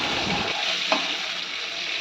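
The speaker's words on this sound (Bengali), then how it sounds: "মা এখানে আলু ভাজা করছে" Potatoes fry in a pan on a home stove, giving a steady close broadband sizzle with one brief louder pop near the middle and no voices.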